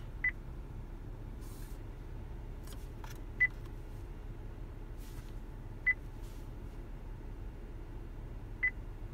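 A car navigation control dial is turned in short separate clicks, four faint sharp ticks spaced a couple of seconds apart over a steady low hum inside the vehicle.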